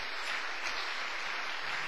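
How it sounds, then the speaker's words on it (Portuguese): Congregation applauding during a church sermon, a steady broadband wash of hand claps held at a fairly quiet, even level for the whole stretch with no voices over it. "Quem pode dar uma salva de palmas para o Senhor Jesus?"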